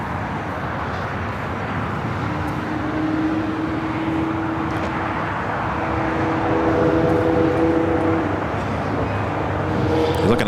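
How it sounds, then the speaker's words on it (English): A Delta Air Lines A321neo jet arriving at Los Angeles from Kahului gives a steady, moderately loud engine roar with a faint whine. The sound swells slightly as the landing approach continues. "You're looking at Delta Airlines Flight 355 coming in from Kahului, an A321neo."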